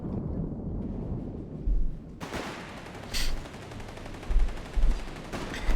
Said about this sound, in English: Massive Stukas barrage